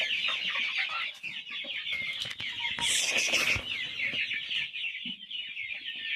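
Desi country chickens on a village farm, clucking and calling repeatedly in a close, busy chorus with a brief louder squawk midway, no talk over them.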